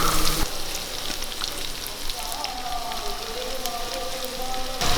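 Green chilies and chopped onion sizzle in a pan for a soya chunks curry, a steady broadband frying hiss running the whole clip with faint stirring and brief louder bursts at the start and end.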